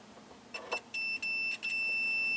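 A continuity meter checking arcade cabinet fuses gives several short, faint beeps at the same steady pitch, with brief pauses between them, against a quiet room.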